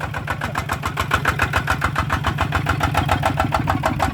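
A car engine fitted with custom side exhaust work runs close and loud, a steady rhythmic pulsing throb with no voices over it.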